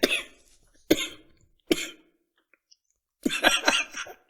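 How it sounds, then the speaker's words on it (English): A woman coughs in sharp bursts: two single coughs, a third, then a quick cluster of hacking coughs, close and clear with silence between. "I'm trying my best to not continue my conversation until I know she's done coughing it all up."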